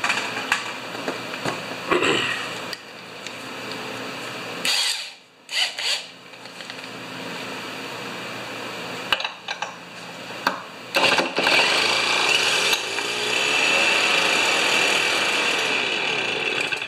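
Power drill whirring in bursts while working on parts of a Stihl BR430 backpack leaf blower that won't run, with pauses, rubbing and scraping handling noise, and a longer sustained run near the end.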